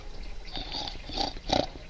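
Minecraft pigs grunt and oink in a few short, close bursts.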